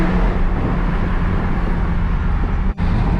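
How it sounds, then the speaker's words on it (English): Loud four-cylinder car passing on a road, a steady, heavy engine and road roar that fills the whole moment close by, with a brief dip in sound just before the end. "there goes a 4-cylinder. God damn, this is loud."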